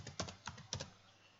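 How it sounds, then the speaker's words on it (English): Someone types a username on a computer keyboard: a few quick clusters of soft key clicks, close and quiet, then the room settles into near silence. "So we are only typing the username."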